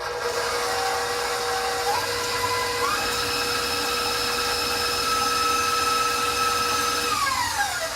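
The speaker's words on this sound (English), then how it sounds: "I'm going to beat this until it's light and fluffy" A stand mixer whirs steadily as it beats muffin batter, a constant motor hum holding one speed with a few pitch shifts, loud and close, with no talking.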